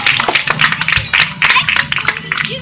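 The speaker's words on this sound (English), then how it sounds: "Everybody's give her one last big round of applause." Kids and an audience at a live animal show clap in a loose round of applause, with uneven bursts of handclaps and some crowd noise close by.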